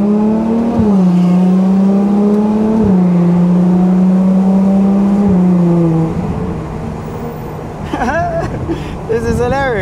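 Ferrari 812 Competizione V12 heard from inside the car, a loud steady engine drone with sharp blips marking downshifts, then the engine drops away and quick revving bursts follow near the end.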